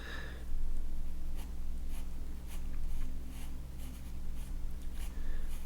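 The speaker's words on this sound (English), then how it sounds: "So this is a 3H pencil." A 3H pencil scratches across paper in short, close strokes, a soft, repeated rhythmic scraping over a low steady hum.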